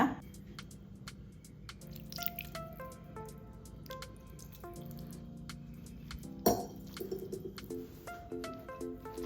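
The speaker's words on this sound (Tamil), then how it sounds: "கொஞ்சமாக தண்ணி தெளித்து மிக்ஸ் பண்ணிக்கோங்க" Cauliflower florets are tossed by hand with masala after a sprinkle of water, giving quiet, close, irregular wet squishing and dripping sounds, with sharp clinks and taps scattered throughout and one louder knock near the end.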